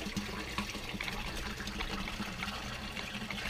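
Water churns and splashes steadily in an aquaponics fish tank, a constant close bubbling rush like a jacuzzi with no pauses.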